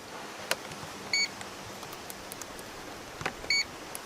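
A multimeter on its continuity setting gives two short, faint electronic beeps a couple of seconds apart while testing a car sidelight bulb, amid light handling noise.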